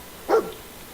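Dogmeat, the dog companion in Fallout 4, lets out a single short, sharp bark, fairly close and clear against a quiet background.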